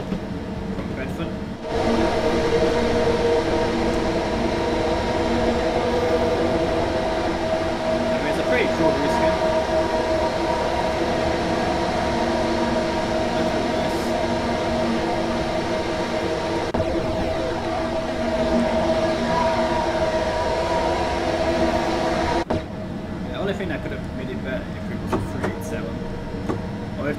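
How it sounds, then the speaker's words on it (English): Thameslink electric train running in the Train Sim World 2 video game on the London Commuter route from Bedford toward Brighton, a steady loud motor hum and rail rumble throughout, dropping briefly near the end. "So driving the remaining part of the Thameslink service from Bedford."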